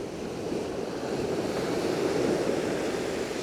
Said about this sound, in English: The sea isn't calm and blue today.